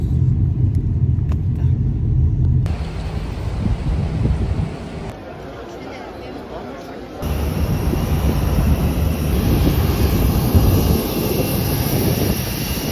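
Steady broadband rumble fills an airplane cabin, a dense low roar that shifts in level as the scene changes, with occasional voices faintly underneath.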